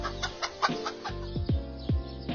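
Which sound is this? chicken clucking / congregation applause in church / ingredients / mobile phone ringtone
chicken clucking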